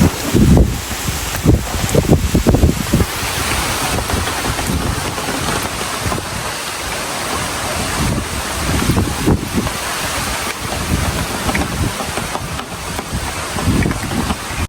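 Strong wind buffets the microphone outdoors with a constant rushing roar, gusting louder at moments amid splashing water and rain-like hiss.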